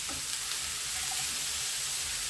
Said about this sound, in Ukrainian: Ось так підсмажили зерненьки вже останні.